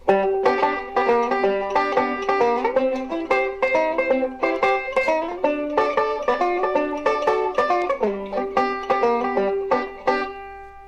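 Bright plucked five-string banjo strumming a steady chord rhythm, with quick hammered notes slurring between strums, played alone and fairly loud.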